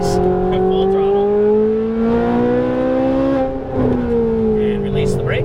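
A Ferrari 458 Italia engine howls at full throttle on the Exotics Racing track in Las Vegas. The strong, close tone climbs in pitch, dips briefly, then pulls again, with a voice speaking over it.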